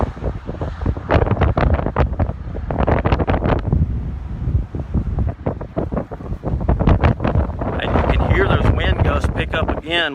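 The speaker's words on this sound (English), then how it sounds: "the wind's been really hard the entire time I've been here" Strong wind buffets a microphone outdoors near a highway intersection and overpass during a police procession, a loud gusty rumbling roar that surges and eases, with someone speaking over it.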